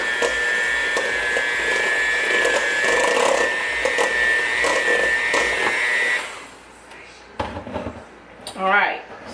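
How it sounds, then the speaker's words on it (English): An electric mixer whirs steadily through half a cup of butter for a homemade coconut cake, a loud continuous motor drone for about six seconds that then cuts off, followed by a few soft kitchen clatters. "And I am going to blend this just a little bit"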